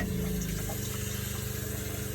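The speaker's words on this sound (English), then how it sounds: "Now turn the hot water side on your faucet." Hot water runs from a household faucet in a loud, continuous gushing rush with a low pulsing hum, as if from a pump or water heater, with no talking.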